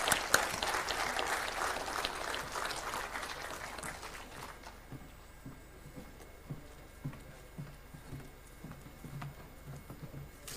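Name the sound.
audience applause for panelists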